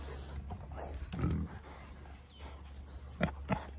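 Several friendly farm pigs grunting nearby on a farm keeping Dexter cattle, with short low snorts scattered across the clip and two sharper grunts near the end, over a steady low background hum.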